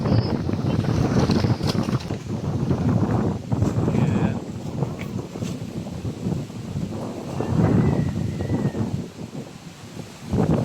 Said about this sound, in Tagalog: Grabe ang hangin kasi.